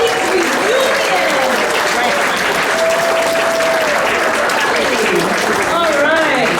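A large audience at a Lake County Honor Flight veterans' reunion claps loudly and continuously, with whistles and cheering voices rising over the sustained applause.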